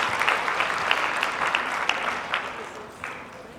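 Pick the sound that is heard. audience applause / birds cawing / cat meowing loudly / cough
audience applause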